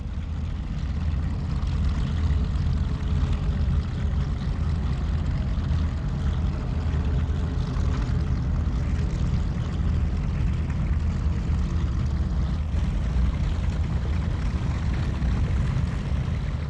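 A North American B-25 bomber's propeller engines drone with a steady, loud, unbroken rumble that holds throughout without any talk.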